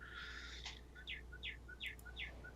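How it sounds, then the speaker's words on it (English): Small birds chirp in the background in a regular series of short, bright notes repeating about every quarter second, faint and distant over a low steady hum, with no one talking. "the chirping was good"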